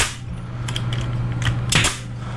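A nail gun fires into a kitchen sink base cabinet's back panel, several sharp clacks and taps over a low background hum, with one louder burst near the end.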